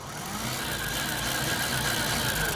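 A modified Bafang mid-drive e-bike motor with an 8 kW controller spins up a lifted rear wheel, a close, steady, loud whirring drone with a rising tone and no talking.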